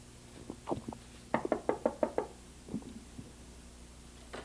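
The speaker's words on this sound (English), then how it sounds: "I thought we'd just knock on the door and see if Tom's home" Knuckles rapping on the front door of a house in Newhall, a quick series of about six close, sharp knocks with a few softer taps before and after, no talking.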